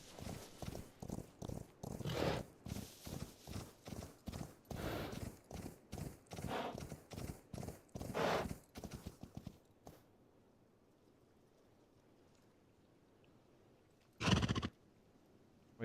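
A horse in the game Rust trots with a steady, quick clip-clop of hooves and a whinny mixed in. The hoofbeats stop abruptly, leaving near-silence until one brief loud burst.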